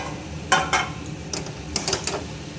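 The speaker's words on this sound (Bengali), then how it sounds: "এবার ভালো করে এগুলো মশলার সাথে কষাতে হবে।" Jackfruit and potato are stirred with spices in a pan, with scattered scraping and clinking strokes of a utensil against the pan over a faint low background.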